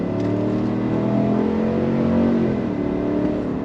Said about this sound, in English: It's just V8 sound from underneath the hood and out the exhaust.